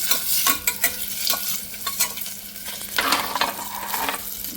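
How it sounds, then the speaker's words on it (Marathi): Green chillies hit hot oil with whole spices for khichdi, crackling and sizzling loudly with sharp pops and stirring scrapes in an irregular rhythm. "आता आपण घालूयात मिरची"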